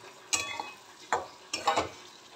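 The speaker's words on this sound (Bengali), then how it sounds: "এবার ভেজে রাখা আলুগুলো দিয়ে দেব।" Fried potato pieces drop into spice paste frying in oil in a pan, giving three short sizzling, stirring bursts spaced over a couple of seconds, close and fairly quiet.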